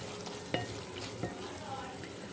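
A spoon stirs and mixes masala tinda with green chillies and coriander in a frying pan, giving soft scraping sounds and two sharp clinks against the pan over a quiet sizzle.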